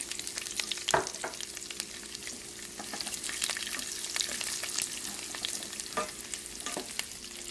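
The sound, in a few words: garlic frying in a pan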